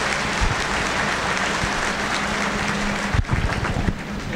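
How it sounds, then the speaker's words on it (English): Steady applause from a livestock show audience for market heifer exhibitors at the Iowa State Fair, a dense continuous clatter of hands at close range, with a brief pause near the end before it resumes. "Give all your Market Heifer exhibitors a real nice round of applause."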